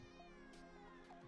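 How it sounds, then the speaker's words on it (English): A cat meows within a song, a drawn-out mewing cry heard twice over sustained musical tones, faint and mixed into the background music. "there's a kitty in the song"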